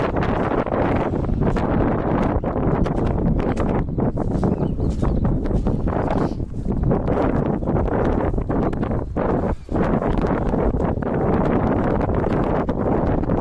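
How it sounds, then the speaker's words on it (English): Wind buffeting an outdoor microphone in steady, loud low rumbles with gusty bursts, constant throughout and with no voices. "So how's the wind sound?"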